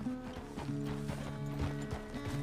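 Horse hooves clip-clop steadily on the ground in the video game Red Dead Redemption, a close rhythmic series of hoof strikes over a low tonal hum, with no talk.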